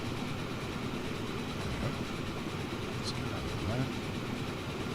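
A Southern European train runs in the Train Fever video game, giving a steady low rumble with faint clicking wheel noise throughout.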